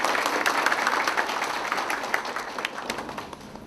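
Wedding guests at a Myanmar wedding ceremony applaud together, a dense, steady wash of clapping that holds for several seconds and slowly eases off toward the end.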